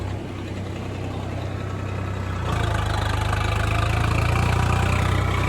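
Tractor engine pulling a tiller through a soybean field, shifted into 4x4 partway through; a steady low diesel drone that deepens and grows louder at the shift, close and continuous with no voices.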